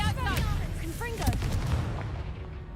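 Confringo blast spell cast in Hogwarts Legacy, a burst of explosive booms and crackling impacts layered over game music, continuing steadily for a few seconds with no voices on top.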